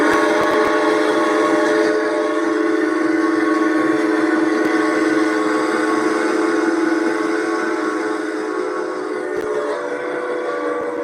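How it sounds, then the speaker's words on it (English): A steam whistle on a train leaving the station sounds as a long, loud, sustained harmonic blast lasting many seconds, steady and close, fading slightly toward the end, with no voices. "this is the sound of the train that's leaving the station"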